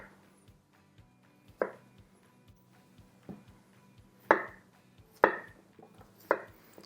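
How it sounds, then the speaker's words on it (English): A knife cutting potatoes into thick slices on a chopping board, several distinct firm chops spaced irregularly over quiet kitchen hum. "we're going to cut it into about 1 centimeter thick slices"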